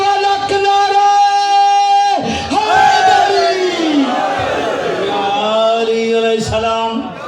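Majlis crowd at a Muharram/Safar gathering raising a loud chanted slogan in unison, voices swelling in sustained, harmonic shouts with a brief break midway, dense and close throughout.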